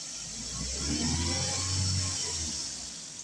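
Suzuki Liana car engine revving briefly, a faint mid-pitched rise and fall in engine speed over a steady hum, heard from nearby with no talking.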